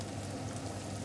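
Spaghetti water bubbling away in a pot for carbonara makes a soft, steady, faint crackling simmer.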